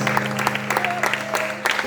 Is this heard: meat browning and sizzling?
no